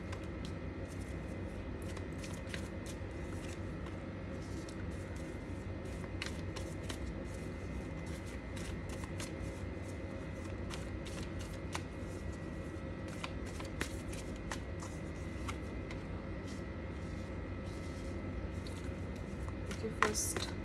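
Tarot cards are shuffled and laid out for a reading, with quiet repeated riffles and soft taps of cards placed close by over a low steady background hum.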